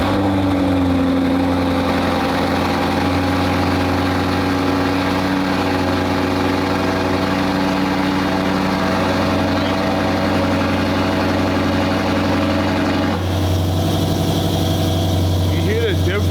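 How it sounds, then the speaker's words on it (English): A loud BMW M550i engine idles through a titanium open exhaust with a rough, throaty drone, steady and close, briefly shifting tone near the end; a voice speaks beneath it. "I don't think I like the open exhaust startup. That shit is too loud"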